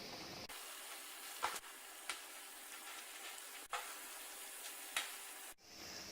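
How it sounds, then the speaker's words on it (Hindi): Balushahi (badusha) pastries frying in hot oil, a steady soft sizzling hiss with a few brief louder pops and crackles, heard alone and fairly close. "इनको गोल्डन ब्राउन होने तक फ्राई करना है"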